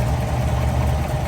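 A 1954 Mercury Monterey two-door hardtop engine idles with a steady, close, low rumble and even vibration throughout.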